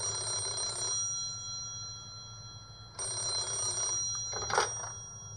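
A telephone rings in two bursts separated by a pause of about two seconds during a power outage, with a faint clatter just after the second ring and a low background hum throughout.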